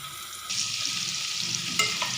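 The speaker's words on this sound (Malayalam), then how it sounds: "എന്നിട്ട് ഉള്ളി നന്നായിട്ട് വഴറ്റിയെടുക്കാം." Chopped onions frying in a pan, salted to soften, with a steady close hiss of sizzling oil and a spoon stirring through them, and a brief scrape toward the end.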